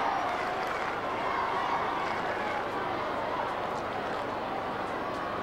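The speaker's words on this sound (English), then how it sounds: "Finals crowd." Steady roar of a large finals crowd at a 1995 AFL match between Carlton and Melbourne, a dense continuous murmur filling the stadium without distinct cheers or breaks.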